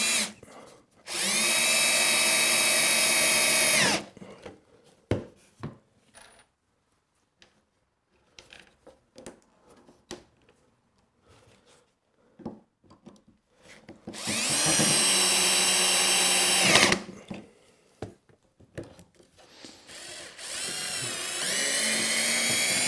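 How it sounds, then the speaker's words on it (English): A power drill drives screws into the rails of a kitchen cabinet face frame in two loud, sustained bursts of several seconds each, separated by quieter handling clatter and knocks in a woodworking shop. "And I'm going to screw in the rails on this side, right down here, because then I can clamp everything."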